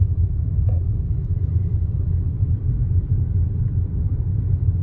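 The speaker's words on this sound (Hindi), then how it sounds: "मैं आराम से कार कंट्रोल कर रहा हूँ एक्सीलेटर दबा के। ये मैंने गियर चेंज करके थर्ड गियर लगाया है।" Steady low rumble of a car engine in third gear while the accelerator is pressed with a bare foot, a continuous close drone heard inside the car with no talking.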